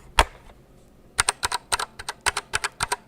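Rapid clicking keystrokes on a computer keyboard, close and crisp, come in quick irregular runs after a single opening tap, with no voice.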